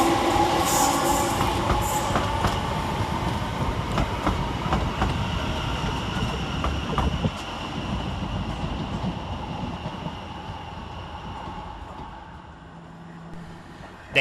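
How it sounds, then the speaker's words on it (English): A Class 710 London Overground electric train pulls into Bethnal Green station, loud and close, with rumbling wheels, clattering over rail joints and faint squeals, the noise slowly easing as it slows and a sharp knock at the very end. "710-118 arrives, working the 1921 London Overground service from London Liverpool Street to Chingford."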